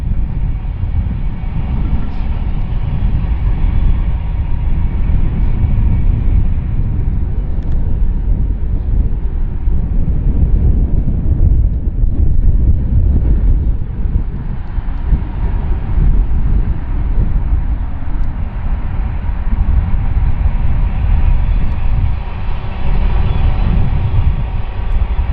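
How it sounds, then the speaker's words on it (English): A BNSF grain train coasts downhill on an eastern Washington mainline, a loud continuous low rumble and rolling roar of freight cars on rails that stays steady and close with no voices. "We catch up with our grain train once again coasting downhill"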